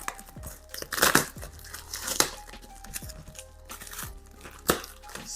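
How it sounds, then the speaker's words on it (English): Unboxing a shipped package of Nigerian food items, including crayfish: close, irregular tearing and crinkling of packaging, with several louder ripping bursts over a low steady background. "let's unbox this together and see what is in here"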